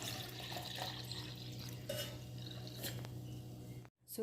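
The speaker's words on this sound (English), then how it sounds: "add water." Water poured into a pot over equal amounts of coffee grounds and tea, a steady running splash with faint clinks, continuing for several seconds before stopping abruptly near the end.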